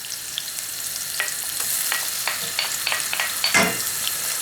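Tomato paste frying in a pan with golden brown onions for jollof rice, a steady close sizzle with scattered crackles and a few stirring clicks throughout, no talking.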